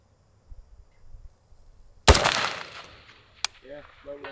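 A single loud Sig MCX-SPEAR rifle shot cracks out on a long-range course, echoing and decaying, followed by a sharp click and brief voices.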